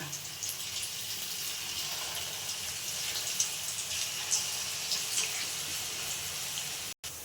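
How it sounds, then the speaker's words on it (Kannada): Small gobi manchurian cauliflower balls frying in hot oil, a steady close hiss and bubbling crackle that runs without a break, with no talk. "ಎಣ್ಣೆ ಕಾಯೋದಕ್ಕೆ ಚಿಕ್ಕ ಚಿಕ್ಕ ಉಂಡೆಗಳನ್ನು ಬಿಟ್ಕೊಳ್ಳೋಣ"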